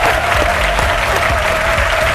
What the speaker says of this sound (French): Son nom, c'est Benson Diakité, qu'on applaudit très fort